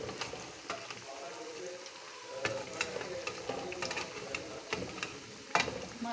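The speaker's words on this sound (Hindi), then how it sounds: "इसी तरह से हम अपने सारे पकौड़ों को पलटते जाएंगे।" Pakoras sizzle steadily in hot oil in a pan as they are flipped one by one, with occasional sharp clicks and scrapes of the utensil over the constant bubbling fry.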